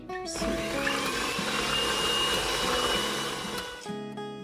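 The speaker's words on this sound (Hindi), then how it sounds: "अब हम इसमें ऐड करेंगे 4 अदद अंडे और दोबारा अच्छे तरीके से बीट कर लेंगे।" Electric hand mixer whirring steadily as it beats four eggs into cake batter for a pineapple upside-down cake, a continuous loud motor drone with brief quieter moments at start and end.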